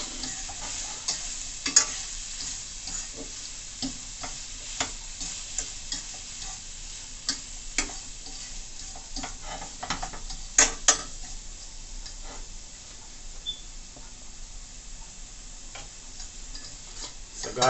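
Tomato sautéing with herbs in a well-colored pot for Jamaican curry fish, a steady close sizzle and crackle with occasional stirring clicks and ticks running throughout, no talking.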